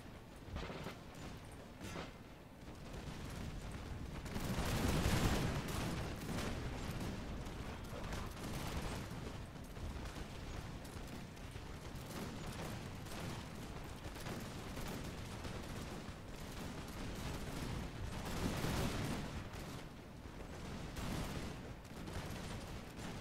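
Massed musket volleys crackle in a Napoleonic-era battle in the strategy game Napoleon Total War, dense overlapping gunfire rolling continuously with louder swells, a distant battlefield din throughout.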